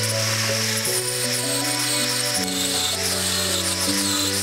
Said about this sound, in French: Petite soudure d'angle, et ben on les fera avec la petite lime électrique Makita aussi qui va très bien.